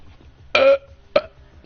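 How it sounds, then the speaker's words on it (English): Two burps from a person, a longer one followed by a short, weaker one, fairly close and alone over low background noise. "That was a weak ass burp."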